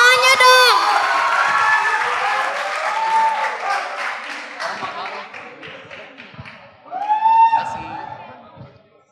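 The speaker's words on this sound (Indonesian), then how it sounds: "Tepuk tangannya dong." Audience at an NCLSC 2023 evening youth session claps and cheers loudly, with shouts and voices rising over the applause, which fades out and then gives way to a host speaking.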